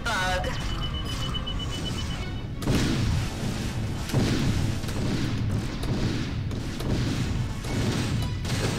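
Spaceship weapons fire in the space combat game Wing Commander Prophecy: loud, dense blasts and booming impacts rumble on continuously, with heavier hits near three and four seconds. A voice talks over the battle.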